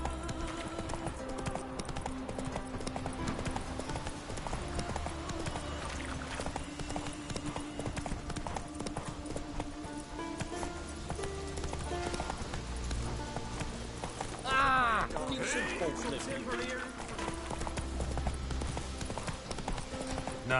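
Roach, the horse in The Witcher 3, runs with a fast, steady clip-clop of hooves over game music and effects, with a brief burst of other action midway.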